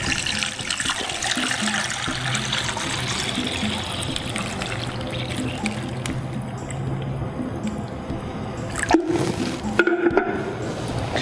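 Water poured into a pozole mix of dried garlic, dried onion, salt and Mexican oregano in a kitchen, a steady splashing trickle with clattering bumps near the end.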